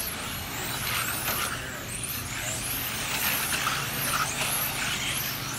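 Race cars circle the track at Cal Raceway in Orange, California, heard from a distance as a steady, fairly faint engine whine that swells and fades as they pass.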